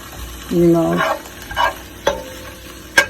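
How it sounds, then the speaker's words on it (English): Onions sautéing in a pan for a steak dinner give a soft sizzle with a few scraping stir strokes and utensil clicks, close by, with a brief low vocal hum early on. "So we just gonna saute our onions going down"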